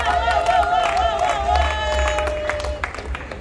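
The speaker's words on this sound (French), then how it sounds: "si on peut l'applaudir" Wedding guests at a civil ceremony in Gombe clap and cheer together, a lively crowd roar with claps and shouts while a voice sings or calls out over the noise throughout.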